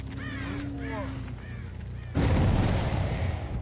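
Crows cawing in the Dead by Daylight video game, several rasping calls in quick succession over a steady ambient game drone, which swells into a louder, denser rumble near the end.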